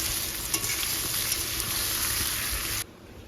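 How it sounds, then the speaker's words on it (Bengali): Sliced onions for biryani beresta frying hard in hot oil over a high gas flame, a loud, steady crackling sizzle with stirring that cuts off abruptly near the end. "গ্যাসের ফ্লেমটাকে একদম হাই রেখেই কিন্তু খুব ভালো করে পেঁয়াজ বেরেস্তা ভেজে নিতে হবে"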